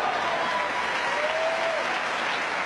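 Wimbledon tennis crowd applauding, a dense, steady wash of clapping from a large audience that holds at an even loud level throughout, heard from a distance across the stands.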